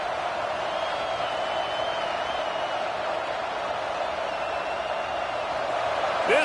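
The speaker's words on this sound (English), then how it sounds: "This crowd bringing the energy and noise early." Stadium crowd noise in the video game College Football 26, a steady distant roar of fans holding level throughout with a faint rise at the end.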